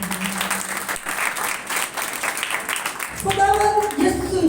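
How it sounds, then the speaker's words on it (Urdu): A church audience breaks into loud sustained applause, many hands clapping in a dense, close wash, with singing and music rising beneath it toward the end. "بھرپور تالیاں ہو جائیں"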